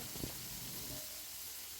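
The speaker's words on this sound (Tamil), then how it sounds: "கடுகு உளுத்தம்பருப்பு நல்லா பொரியட்டும்" Quiet, steady sizzle of mustard seeds and urad dal crackling in hot oil, a fine continuous hiss with a few soft pops near the start.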